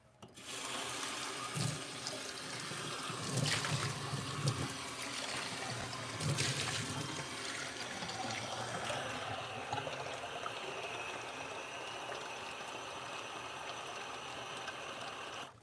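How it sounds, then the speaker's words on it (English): Water pours in bursts into a container of soil blocking mix, gushing and splashing in a few surges before settling into a softer trickle, fairly close and with no one talking. "I just decided to fill the whole thing and then I'll add water as I go."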